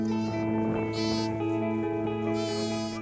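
Goats bleat on a large commercial goat farm, with several calls overlapping above a steady tonal background hum. The voices are close and fairly loud.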